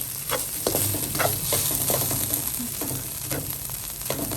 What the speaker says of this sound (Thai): เอาน้ำมันนิดหน่อยนะคะ ใส่กระทะสัก สองช้อนโต๊ะค่ะ แล้วก็เอาน้ำพริกลงผัด